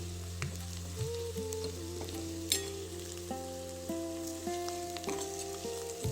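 Tomato kadhi sweetened with jaggery simmers and sizzles in a pan, with a soft continuous bubbling hiss and occasional light stirring scrapes. A faint tonal hum runs underneath.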